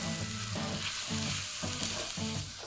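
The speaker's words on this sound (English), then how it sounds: "As soon as that paprika hits the pan, you can really smell the smokiness and the sweetness of that paprika." Paprika sizzles loudly in a hot pan for beef stroganoff, a dense continuous hiss broken by several rhythmic stirring scrapes, close up and alone.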